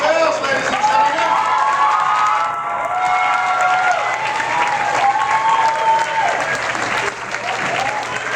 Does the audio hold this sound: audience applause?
yes